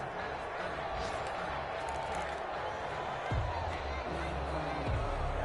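A stadium crowd at a Las Vegas football game keeps up a steady roar of cheering, with a few louder swells, while a commentator talks over it.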